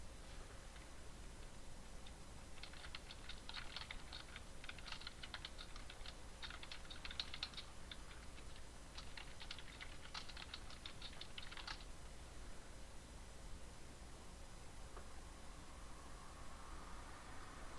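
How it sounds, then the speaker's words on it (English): Steady, quiet computer keyboard typing in bursts of rapid clicks, with a pause partway through and then another run of keystrokes, over a faint constant hiss, with no voices. "Sorry I'm typing more than talking"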